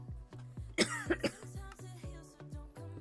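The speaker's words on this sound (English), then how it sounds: "I'm really sorry about the coughing" A few sharp, close coughs burst out in quick succession near the middle, over a steady background of music.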